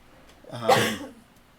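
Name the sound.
cough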